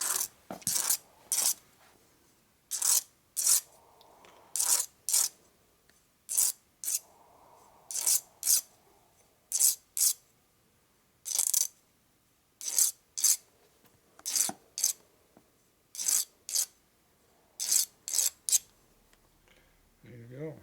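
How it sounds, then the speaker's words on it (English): A flared metal tube edge on a 1983 Harley FXRT shovelhead is deburred by hand: short, crisp scraping rasps repeated in quick bursts with brief pauses between, close and clear against a quiet background. "We have to deburr it"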